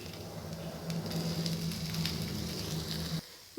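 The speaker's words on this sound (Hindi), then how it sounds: "प्री हीट पैन में हम 1 बाय 1 अपने स्नैक्स को फ्राई कर लेंगे" Snacks fry in a preheated pan greased with just a drop or two of oil, giving a soft, steady sizzle up close, with no talking, that cuts off near the end.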